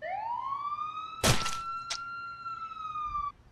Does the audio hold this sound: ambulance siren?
yes